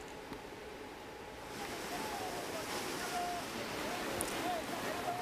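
Rushing flood river water in Binjai, North Sumatra, sweeping away a riverside house: a steady, broad roar that swells after the first second and continues loud and unbroken.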